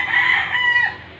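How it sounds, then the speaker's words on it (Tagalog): A young stag rooster crows once, loud and close, in a single drawn-out call that fades at the end. "Kaya ayan, kita yan, titilaukan."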